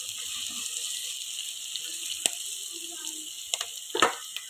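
Potatoes with green chilli fry in a pan with a soft, steady sizzle, broken by a few sharp clinks and scrapes of stirring near the end.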